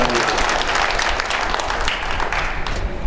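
Strong, sustained applause fills a lecture hall as the audience claps steadily and loudly, a dense wash of hand claps with no pauses.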